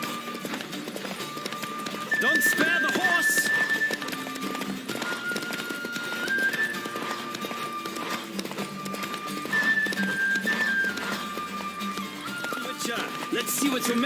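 Horse hooves clip-clop in a quick, steady galloping rhythm in The Witcher 3 video game, with a rider's shouts and game sounds layered over the hoofbeats.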